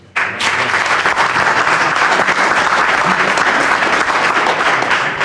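An audience at a civic honors ceremony claps loudly for the Public Works crew, applause bursting in abruptly and holding as a steady, dense wash of many hands throughout.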